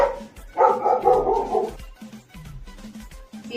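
A pet dog named Toffy barking nearby, a loud burst of barks followed by a few softer yips and whimpers, with no talking.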